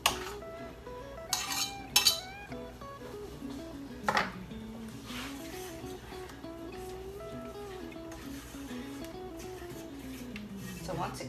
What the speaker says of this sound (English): But I am going to cut that butter so that it will melt a little faster.